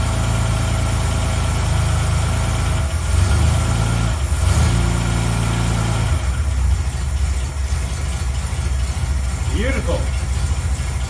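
A restored car's engine idles with a steady low rumble and slight vibration, loud and close, while people talk and exclaim over it.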